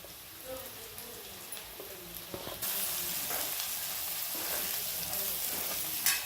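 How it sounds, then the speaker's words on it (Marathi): Green chilli pieces sauté with onion in a pan, with a low crackling sizzle and occasional stirring scrapes that grow louder and brighter midway and continue steadily, with no voices. "हिरवी मिरची पण चांगली परतून झाली आहे"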